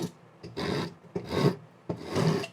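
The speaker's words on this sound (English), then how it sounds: "I used my rasp and I just kind of went along that bottom edge" A hand rasp files along the bottom edge of a wooden beam for a medieval barn build, giving three long, close, coarse scraping strokes with short pauses between them and no talking.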